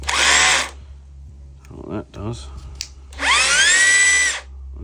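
A handheld impact driver whirs in two loud, steady bursts at the start and end, with a brief remark spoken in between.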